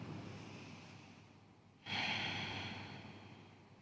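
One slow breath at rest during a yoga flow, a soft faint inhale that swells into a longer, louder breathy exhale, close and alone.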